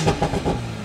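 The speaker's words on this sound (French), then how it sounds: "Petit pop and bang." Rapid pops and bangs from a tuned 500-horsepower Toyota Supra engine heard from inside the cabin, a quick burst of three or four sharp crackles over a low engine rumble.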